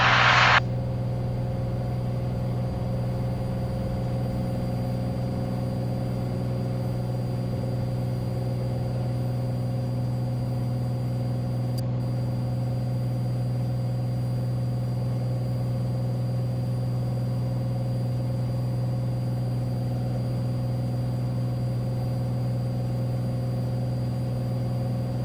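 Cessna 182 Skylane piston engine at takeoff and climb power, a steady loud droning hum with strong low harmonics holding constant throughout, heard close from inside the cockpit.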